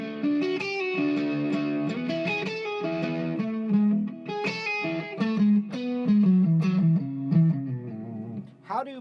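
Electric guitar plays rippling arpeggios through a chorus-like effect, notes picked one after another, fairly close and moderately loud, with no talking.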